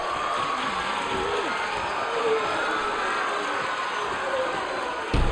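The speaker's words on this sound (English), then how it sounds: "And this crowd is loving it." A crowd at a live wrestling show cheers steadily throughout, a dense wash of shouting and applause with a commentator's voice faintly underneath.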